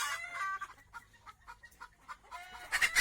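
Desi hens sitting on their eggs give a series of short, soft clucks and murmurs close by, rising into louder, sharper calls at the end.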